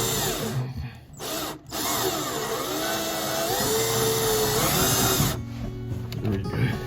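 Power drill driving flat screws into a sweet chestnut plank, a loud whining motor with pitch shifting under load, briefly stopping twice early on before running on, close by.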